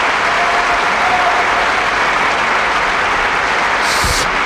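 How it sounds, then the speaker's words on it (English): Loud, steady crowd applause plays as a sound effect on a Las Vegas radio show, a dense continuous wash of clapping and cheering with no voices. "And the crowd goes wild."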